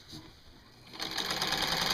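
A Singer 15 sewing machine fitted with a walking foot stitches a quilt, starting quietly and then running in a fast, even, close mechanical whirr of rapid needle strokes.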